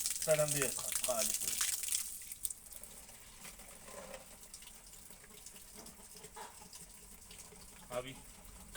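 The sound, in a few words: water running while filling bottles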